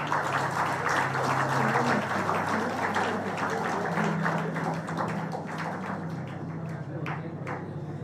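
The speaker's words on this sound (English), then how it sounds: "request the audience to please applaud the students" An audience at a graduation day ceremony claps for the graduating students, a thick, continuous patter of many hands with some louder close claps, over a low steady hum, easing slightly toward the end.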